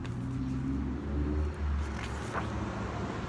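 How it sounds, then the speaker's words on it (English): Loud cars pass by outdoors, a low engine rumble swelling and fading as vehicles go by, steady and fairly close throughout. "Sorry about the loud cars. I'm sitting outside"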